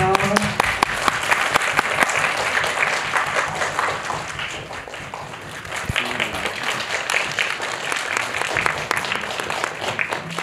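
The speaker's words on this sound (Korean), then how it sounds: "큰 박수로 맞이해주세요." An audience at a film Q&A screening at the Cinecube cinema applauds to welcome the film's director and actors. The dense, steady clapping runs continuously for about ten seconds without a break.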